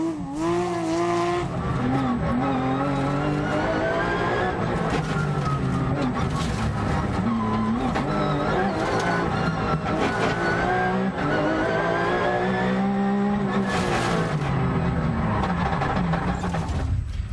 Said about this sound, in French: Patrick Rouillard sur sa Porsche 997, plus puissante que celle de Nantais.